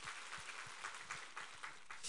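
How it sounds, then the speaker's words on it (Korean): A church congregation claps in praise during a sermon at New Church: a steady, dense spread of many hands, moderately soft and even, with no voices over it. "우리 하나님께 감사와 영광의 박수 올려드리겠습니다"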